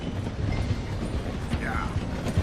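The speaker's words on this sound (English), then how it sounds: "The train is slowing down to go through the station." A train in Red Dead Redemption 2 slows through a station, giving a close, continuous mechanical rumble with light clanking and rattling of the cars.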